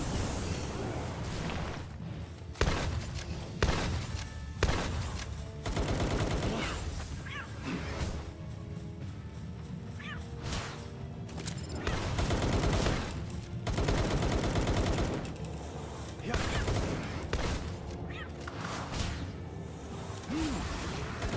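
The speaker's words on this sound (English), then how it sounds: "That's a Gatling gun." Rapid Gatling gun fire in Palworld on hardcore difficulty, a dense sustained rattle of shots with whooshes and crashing impacts mixed in, fairly quiet overall and running continuously with brief pauses.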